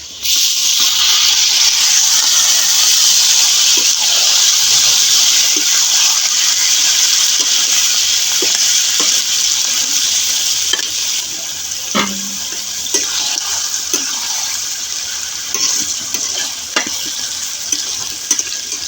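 Marinated duck meat for a chui jhal curry drops into a pan of lightly fried onions, giving a loud, steady sizzle for about ten seconds that then settles into a quieter fry with scattered clinks of stirring.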